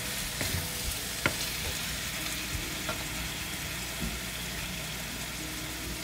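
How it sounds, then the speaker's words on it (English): Chicken pieces stir-fry in a hot pan for cashew chicken, giving a dense continuous sizzle with a few sharp scrapes and clacks from mixing. "let's add in our meat and then give it a quick mix"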